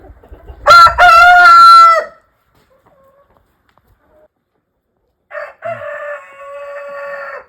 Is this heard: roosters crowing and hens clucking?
yes